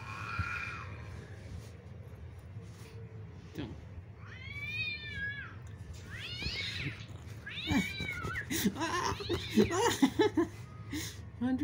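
Many cats meow in a string of rising and falling calls that grow more crowded and louder toward the end, with some giggling mixed in.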